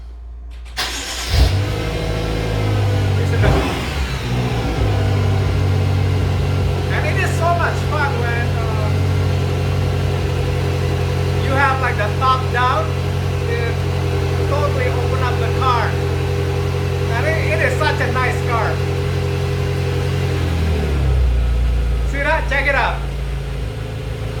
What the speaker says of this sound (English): today I just drive around, and the sound of this car is amazing